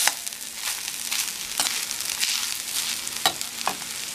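Grated coconut browning in a hot pan for sambar, a steady close sizzle and crackle with faint stirring scrapes running throughout, no voices.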